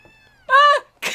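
A cat's meow from the video game Gravity Rush Remastered, one clear drawn-out call standing alone after a faint tone, followed by a short noisy burst.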